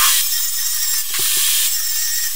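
A saw cuts 8mm MDF board leftovers to length, giving a harsh, steady high hiss of sawing close by. A couple of brief knocks break in near the middle, and nobody speaks.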